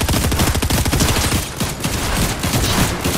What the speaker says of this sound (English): somebody else is shooting at me from mountain